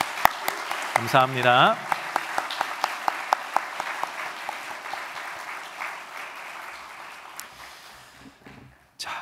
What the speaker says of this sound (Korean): 옆에 있는 부모님들께 우리 감사의 박수를 한번 올려드리겠습니다